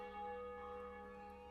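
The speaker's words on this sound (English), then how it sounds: "the many church bells ring out marking the 8 a.m." Church bells ring out over a city neighbourhood, sustained bright tolling tones layered with a long hum, steady and moderately distant, with no voices.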